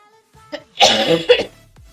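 A person coughs a couple of times, close and fairly loud, with short harsh bursts, a brief lead-in sound and nothing else around it.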